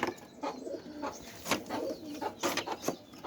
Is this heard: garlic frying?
no